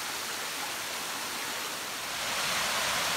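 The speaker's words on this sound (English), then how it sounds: "you get to see the top of the waterfall" Waterfall on a mountain hike, heard as a steady broadband rushing hiss of falling water that grows slightly louder toward the end, with no talking.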